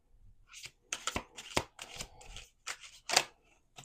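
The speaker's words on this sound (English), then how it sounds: "1 last shuffle." A deck of oracle cards shuffled in several quick riffling bursts, crisp and close, with short pauses between them.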